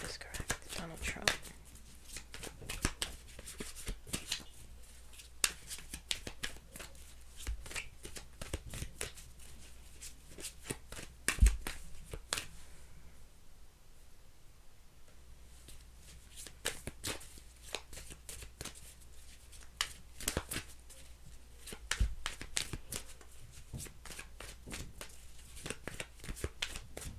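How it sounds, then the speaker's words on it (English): Playing cards are shuffled up close in repeated bursts of crisp riffling and snapping, with brief quieter pauses between rounds. "2 more shuffles."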